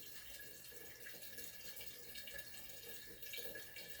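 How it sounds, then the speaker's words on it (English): Water runs steadily from a tap into a jug, a continuous soft gushing with slight splashy variations, no talking. "go ahead and fill up your jugs while you're doing other things"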